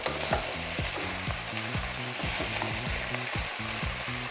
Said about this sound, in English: after putting the celery, give it a quick stir